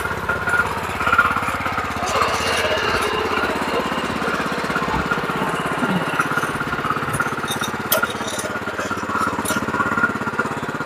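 A newly started power tiller engine runs continuously nearby in a field, with a rapid, rough, steady chug and rattle and no pauses.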